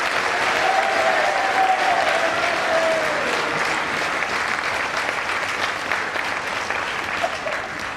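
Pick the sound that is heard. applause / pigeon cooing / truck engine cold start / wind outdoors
applause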